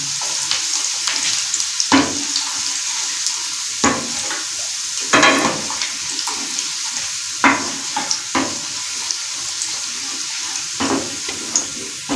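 Garlic sizzles steadily in hot oil in a pan as a spoon scrapes and stirs it, with repeated sharp clinks and scrapes over a constant frying hiss and no talking.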